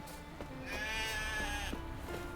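A sheep in The Witcher 3 bleats in one long, wavering, nasal cry close up, followed by shorter bleats over a low game soundscape.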